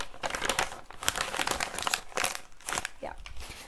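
Dry paper is crinkled and crushed by hand to imitate the rustle of dry leaves, giving soft, close crackling bursts with a voice speaking alongside.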